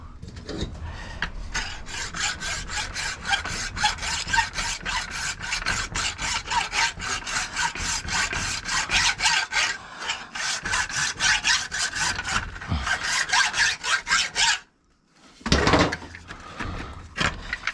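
Rapid rhythmic rasping strokes of a hand saw cutting through metal, close and continuous, with a brief pause before the sawing resumes.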